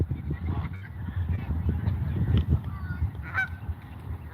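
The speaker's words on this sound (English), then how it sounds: "There they go, the geese, huh?" Geese honking by a lakeside, several calls scattered through the clip over steady low outdoor rumble, moderately close, with someone talking intermittently underneath.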